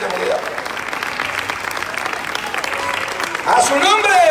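A church congregation claps in praise to the Lord, sustained loud applause with voices over it, swelling louder near the end.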